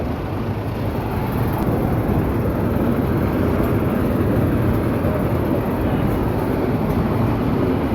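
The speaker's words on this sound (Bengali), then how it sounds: "এই যে ট্রেনটি তার গতি বাড়াচ্ছে ধীরে ধীরে" The Narayanganj commuter train leaving Dhaka's Kamalapur station gives a loud, steady, broadband rumble as it slowly gains speed, with no talk.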